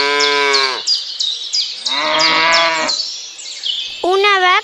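Cattle moo in several long, drawn-out calls, fairly loud and close, with a brief pause between, ending in a shorter, rising moo, no talk alongside.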